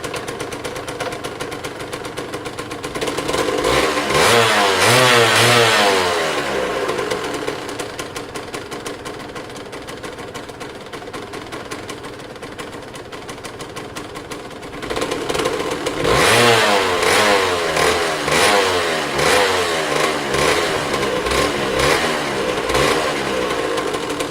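A Kawasaki KDX 125 two-stroke motorcycle engine running with the choke on, idling with a raspy buzz and twice revving up loudly, close and alone.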